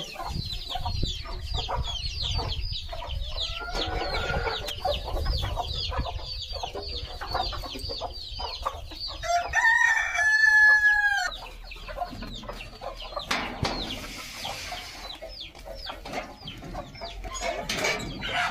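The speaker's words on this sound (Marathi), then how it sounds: "ती बघा कोंबडी" Free-range country chickens cluck and chirp busily nearby on a farm while a rooster crows once clearly in the middle, over a low background of farmyard noise.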